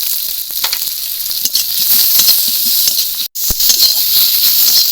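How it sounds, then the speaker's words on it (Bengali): Chopped onion and tomato with turmeric sizzle loudly in a hot pan for a bamboo shoot and prawn curry, a close, steady hiss broken by scraping stirs and one brief drop-out. "টমেটো আর পেঁয়াজ একসঙ্গেই পুরো ভাজা ভাজা হয়ে যাবে, টমেটোটাও গলে যাবে।"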